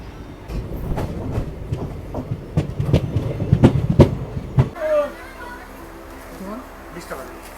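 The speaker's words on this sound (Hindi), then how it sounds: "ट्रेन रुकते रुकाते चलती है, पैसेंजर ट्रेन है।" A passenger train on the line from Mendipathar to Guwahati rattles over rail joints with rhythmic clickety-clack beats, then the noise eases into a softer rumble, while people talk nearby.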